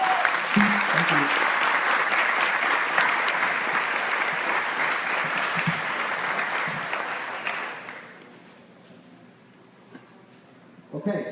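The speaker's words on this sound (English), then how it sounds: "Let's give them a round of applause" A roomful of people claps steadily and loudly at an industry roundtable, broad dense applause lasting several seconds before it fades out into quiet.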